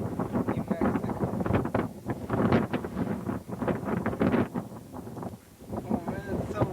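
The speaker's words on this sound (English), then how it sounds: "Oh man, it's so windy here." Strong wind gusting at Navajo Lake, a reservoir on the Colorado–New Mexico border, buffeting the microphone in rumbling bursts while someone talks over it.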